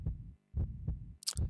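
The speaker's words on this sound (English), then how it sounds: "the lower your health, the faster the heartbeat is" A fast heartbeat warning cue from the video game Resident Evil Outbreak, signalling low health: three or four deep, thumping beats in quick succession, close and alone, with a brief higher blip near the end.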